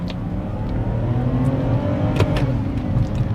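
A BMW 5 Series pulling hard in first gear, its engine droning loudly and climbing steadily in pitch from inside the cabin, with no talk.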